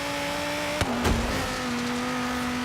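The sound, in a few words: V10 car engine accelerating in video game Forza Horizon 3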